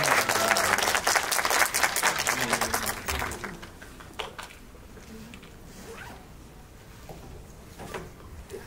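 An audience at a film screening event applauds to welcome the director and an actress, loud and dense for about three seconds before thinning to scattered claps and a quiet murmuring room.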